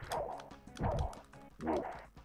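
Three short gruff woof-like attack sounds from the Teenage Mutant Ninja Turtles IV: Turtles in Time video game, evenly spaced, loud and close, with no talk.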